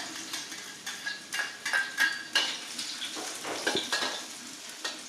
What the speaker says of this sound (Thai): ผัดกระเทียมให้หอมก่อนค่ะ